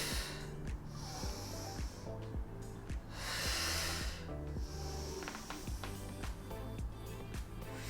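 Rhythmic breathing during a beginner Pilates mat workout, broad airy inhales and exhales rising and falling over steady background music, fairly close and moderate in level.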